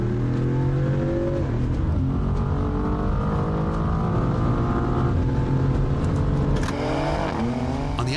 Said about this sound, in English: Dodge's 6 sounds great